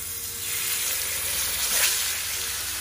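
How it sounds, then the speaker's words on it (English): Nenue fish fries in a pan with a loud, continuous hiss and crackle, a brief surge of sizzling near the middle, and no talking. "We're gonna fry it."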